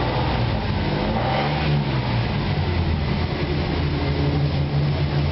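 A 1949 Plymouth Business Coupe fitted with a 3.2 SHO engine and new dual exhaust rumbles steadily and fairly loud, a low continuous drone with mild swells and no talk.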